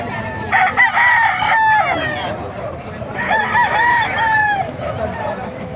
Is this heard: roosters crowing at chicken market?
yes